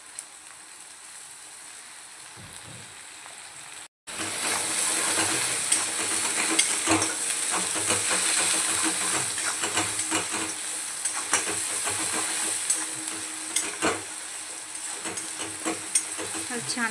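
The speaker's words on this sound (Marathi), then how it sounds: "छान पैकी परतून घेऊया।" Sprouted moong with curry leaves, onion and salt sautés in a hot pan. After a quiet start and a brief cut, a loud, steady sizzle takes over, broken by irregular crackles and stirring scrapes. No one speaks.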